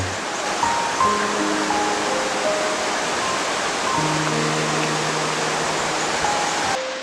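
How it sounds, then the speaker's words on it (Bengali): Turga waterfall in Purulia during the monsoon sends a broad, steady roar of rushing water from a distance, continuous and fairly loud, with faint tonal hums and no voices. "ঝর্ণার জলের ভীষণ আওয়াজ"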